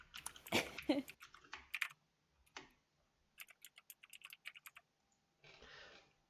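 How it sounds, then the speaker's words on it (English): Computer keyboard typing in short bursts of rapid clicks, fairly close and moderately quiet, with brief pauses between runs and a faint voice at the start. "typing in across several machines"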